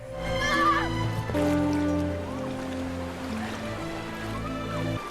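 A horse neighs loudly in a movie scene with a shrill, wavering whinny near the start, over a dense bed of sustained orchestral music that carries through to the end.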